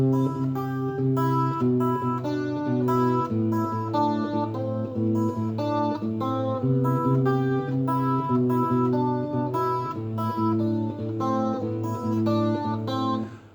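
Fingerstyle guitar plays a steady, melodic pattern of plucked notes and bass lines, clear and close, with no voices.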